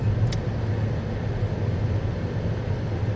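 A car driving along Crater Rim Drive in Hawaii Volcanoes National Park makes a steady, fairly loud engine and road rumble that carries on without a break and has no talk over it.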